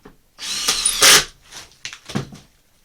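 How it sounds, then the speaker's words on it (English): Cordless drill driving a screw into a wooden clamping block for a carved canvasback decoy, short loud whirring bursts that rise and stop in quick succession, close up and alone. "cordless drill, and we're just going to screw a little bit of a clamping block to the back of this"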